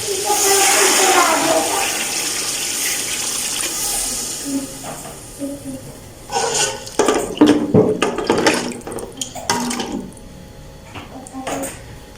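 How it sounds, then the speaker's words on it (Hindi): Water pours into a pot of soaked rice for matar pulao in a loud, hissing rush that tapers off, followed by clinks and scraping sounds. "हम तकरीबन एक ही सेम टू सेम पानी डाल रहे हैं"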